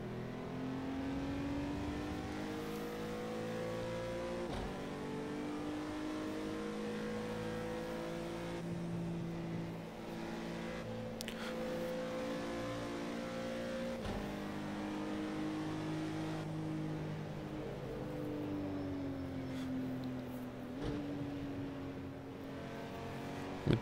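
A Honda NSX race car engine in Project CARS 2 laps the Nordschleife, a steady close drone that rises through the revs, drops at each gear change and climbs again, with no voices.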